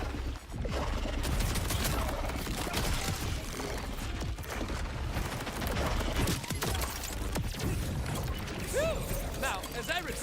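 SMG gunfire in Borderlands 4, rapid bursts of sharp shots layered over a busy, loud game mix with music and effects throughout.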